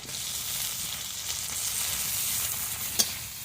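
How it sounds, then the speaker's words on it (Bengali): Onion, garlic and tomato fry in hot oil for a village-style sea fish curry, a steady close sizzle and hiss with a faint stir and a brief sharp clink near the end. "পেঁয়াজ দিয়ে দিচ্ছি, রসুন দিয়ে দিচ্ছি, ওর সঙ্গে টমেটো"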